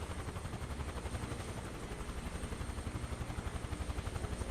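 A Chinook twin-rotor helicopter in Microsoft Flight Simulator 2024 on PS5 Pro drones steadily with a deep, rapid rhythmic rotor thump under a constant engine whine, heard close and alone without talking.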